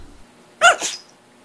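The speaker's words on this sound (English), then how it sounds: "here's that sneezing puppy again." A puppy gives a single sharp sneeze, a quick double-burst snort up close, with near silence before and after.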